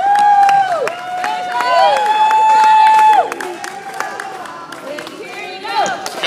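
A crowd cheers and claps for a tightrope walker, mixed with whistles and some shouting voices, fairly loud at first and then thinning to scattered applause and chatter.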